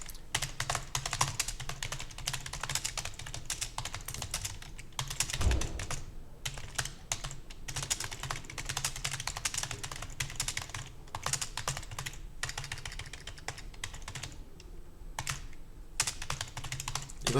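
Fingers type on a computer keyboard while entering text for an ITQ Hangul word-processing exercise, a quick, irregular patter of key clicks going on continuously with short pauses.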